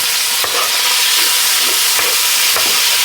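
Bacon cooks down in a pan after browned bratwurst, a loud, dense, steady sizzle with occasional utensil scrapes and stirs cutting through.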